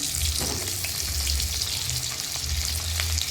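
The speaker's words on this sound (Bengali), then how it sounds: "বেগুন ভাজার তেলটার মধ্যে দিয়ে দেবো আলুগুলো" Potatoes fry in oil left over from frying brinjal, giving a steady close sizzle with a crackle at the start and no voices.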